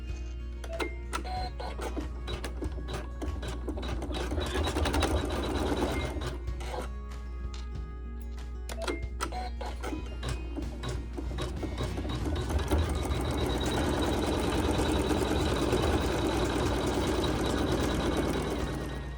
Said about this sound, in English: we're going to sew the satin cover stitches for the applique